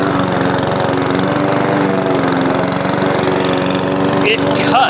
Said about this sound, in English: And I know it's loud, but seriously, this mower has an amazing cut to it.